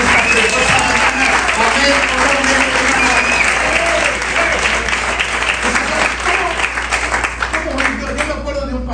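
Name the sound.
congregation applauding loudly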